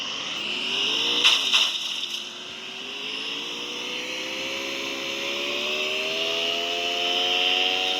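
Vehicle engine in the Free Fire MAX battle royale game, a steady droning hum whose pitch rises slowly as the car picks up speed, with a brief rattling burst near the start and no talking.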